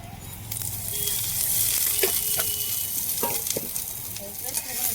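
Chopped onions frying in a little oil on a hot tava griddle, a steady close sizzle with a few scraping stirs and clicks of a spatula.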